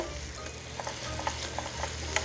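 Lotus root stir-fried with a spoonful of sugar over very low heat, giving a dense, even sizzle with faint intermittent ticks and scrapes of stirring, close and steady, without speech.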